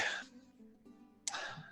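A single quick sneeze bursts out near the start, followed by a shorter second burst of breath about a second later, fairly close but soft, in a quiet room with faint voices.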